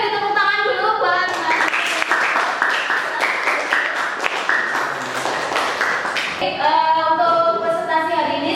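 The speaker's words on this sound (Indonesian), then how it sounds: "Oke, beri tepuk tangan dulu buat" Classroom applause after a group presentation, with students clapping together in a dense burst that runs several seconds under voices and background music, loud and close.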